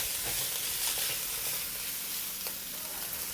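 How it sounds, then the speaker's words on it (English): Pork belly and pickled mustard stir-fry in a hot wok with a steady, loud sizzle, with soft spatula scrapes scattered through and no talking. "The more you fry this dish, the better it will taste."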